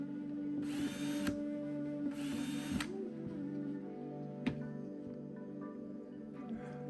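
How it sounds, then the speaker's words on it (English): A power drill bores ventilation holes in a plastic container for an isopod terrarium, with two loud whining bursts over a steady mechanical hum and a sharp click afterward. "We'll be drilling ventilation holes on the sides and on top to ensure proper airflow"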